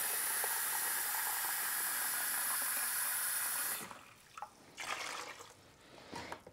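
Water, mixed with vinegar for rinsing strawberries, pours in a steady hissing stream for a few seconds, then stops, leaving faint splashes and trickles.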